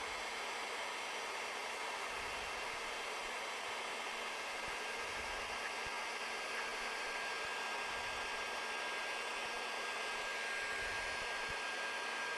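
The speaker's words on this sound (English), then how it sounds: "Just my palm sander, it's all I got." Palm sander working wood, a steady close whirring hiss that runs unbroken for about twelve seconds.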